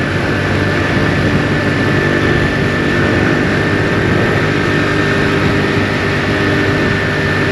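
A 2022 Honda CD 70 motorcycle engine runs steadily while riding uphill on the road toward Murree, a constant close drone with road and wind rumble throughout, no talk.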